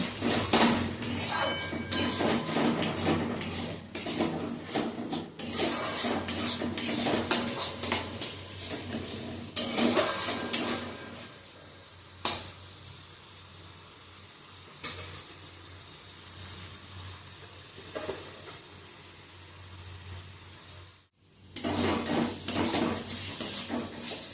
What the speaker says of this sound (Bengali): এর মধ্যে একটু জল দিয়ে আমি মশলাটাকে আরেকটু ভালো করে কষিয়ে নেব।